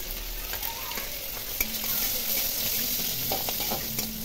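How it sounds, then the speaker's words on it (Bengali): Chopped onions frying in hot oil, giving a steady, close sizzle with occasional clicks from stirring throughout, and no talking. "কুচানো পেঁয়াজ তেলে একটু ভালো করে ভেজে নেব।"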